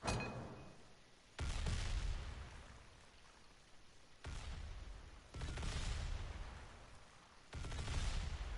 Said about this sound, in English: It just has a maximum amount of explosions and then it stops.